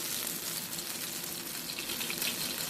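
Beef broth, no salt added, poured into a hot pan where charred food is cooking, giving a steady liquid hiss and gush with bright sizzle, close and continuous without talk.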